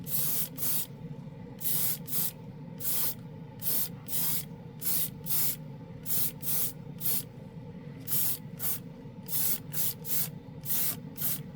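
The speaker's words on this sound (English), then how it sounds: "let's see how much it atomizes, how well it atomizes the paint." A $50 budget airbrush with a real wood handle sprays paint in short hissing bursts, about two dozen close, loud spurts in an uneven rhythm with brief quiet gaps.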